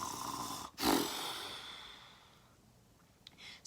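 Voices mimic snoring in a children's bedtime story, one loud drawn-out snore-like breath near the start that fades away, followed by a brief softer burst at the end.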